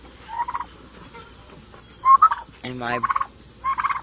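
Bourbon Red turkeys gobble in several short, rattling bursts nearby, one loud call in the middle, with a brief spoken phrase and faint insect buzz behind.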